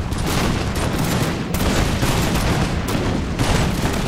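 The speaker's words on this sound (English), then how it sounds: "Lot of men firing there." Massed musket volleys in Empire Total War, Darthmod, Poland and Lithuania battle against dragoons: dense continuous crackling gunfire from rank after rank, loud and sustained with brief dips, no talk.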